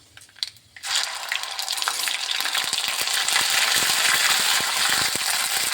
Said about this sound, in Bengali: আদাটা যতক্ষণ পর্যন্ত কাঁচা গন্ধ থাকবে ততক্ষণ একটু ভেজে নিতে হবে